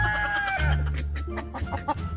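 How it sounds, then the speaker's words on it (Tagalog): Chickens at a hacienda cluck loudly and close by, a dense, busy chorus of clucks with a rooster crowing in the mix, and no voices. "Ang ingay ng mga manok mo."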